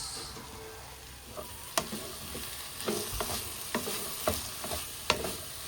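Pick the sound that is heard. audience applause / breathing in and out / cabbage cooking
cabbage cooking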